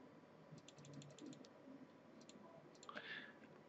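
Camtasia Studio 7 mouse click sound effect imitating a PC mouse and laptop click: a quick series of light, crisp clicks, faint and close, over low background hum.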